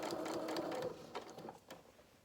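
A sewing machine stitches fabric steadily around a curve on a Highlander cow toy body, a continuous close whir that slows and breaks into short bursts near the end.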